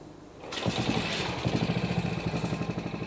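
A classic Moto Guzzi motorcycle engine starts and settles into a steady, rhythmic, muffled thumping idle, loud and close.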